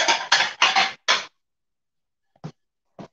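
A dish clatters as it is taken out for a microwave meal in a kitchen: a burst of four loud, close clinks and knocks, then silence and two faint, brief taps.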